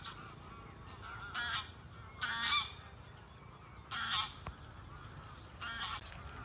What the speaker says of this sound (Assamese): বৰ ধুনীয়াকৈ উৰি গ'ল চৰাইখিনি।